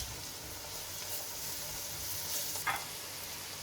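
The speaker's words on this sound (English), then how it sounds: "I like to roast it off a bit, the dry masalas." Dry masala spices roasting in oil in a pan for lamb curry, a steady close sizzle and hiss with a brief stir-like rustle near the end, no talking.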